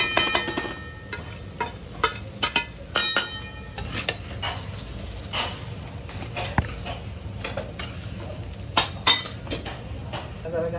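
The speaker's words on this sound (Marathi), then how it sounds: "मसाल्यामध्ये चांगले मिक्स करून घेणार आहोत." Vermicelli stirred into masala in a home-cooking pan for sewai upma, with repeated scraping strokes and clinks of a spoon against the pan over a low sizzle, close and steady throughout.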